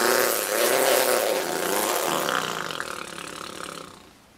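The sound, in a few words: boy imitating a chainsaw with his voice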